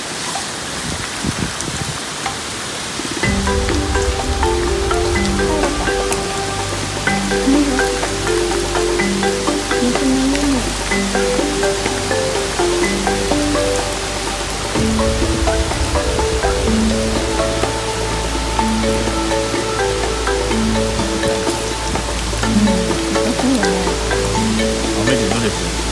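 Heavy rain from an approaching typhoon falling at Nara Park, a dense steady patter that grows louder after a quiet start, with a low rumbling hum and faint voices underneath.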